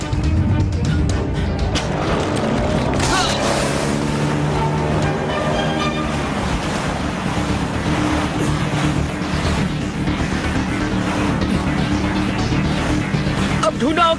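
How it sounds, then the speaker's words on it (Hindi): A cartoon boat's engine runs in a steady, loud drone amid splashing water and a busy music-and-effects mix, continuous throughout. "बोट को रोको। एंड इंजन को बंद कर दो।"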